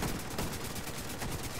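Rapid automatic gunfire from a Conflict match in The Division 2 on PS4 rattles in a dense, continuous burst of overlapping shots at a fairly close, even level.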